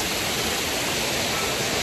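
Water gushes steadily from the stone spouts at Muktinath temple in Mustang, a dense, continuous rushing splash heard up close with no talking.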